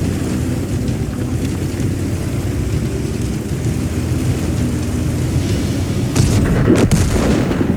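Booming tank cannon fire and rumbling battle noise from a World of Tanks style game, a loud continuous dense roar with sharper blasts near the end, no talking.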